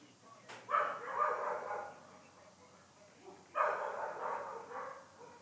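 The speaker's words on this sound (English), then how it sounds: "them dogs keep staying up here in my yard" Dogs barking in a yard, two short bursts of barking a few seconds apart, moderately distant and fairly quiet over a faint background hiss.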